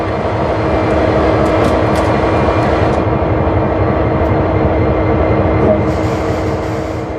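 A CSX heavy-haul locomotive in Train Sim World rumbles steadily with a dense low engine drone and rail noise, loud and continuous throughout.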